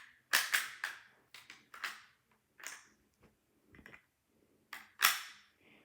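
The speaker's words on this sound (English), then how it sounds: "You just keep loading them in." Plastic rounds clicked one by one into the magazine of a block-built toy bolt-action rifle, a series of sharp close clicks and snaps in uneven bursts with quiet gaps between.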